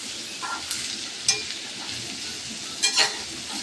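Food being stirred in a frying pan, with a steady low sizzle under a few sharp scraping clicks of the utensil against the pan.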